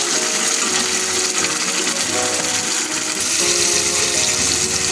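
A little water from the spice bowl pours into a pan of pointed gourd curry, making a loud, steady watery rush and bubbling that swells near the end, with no talking.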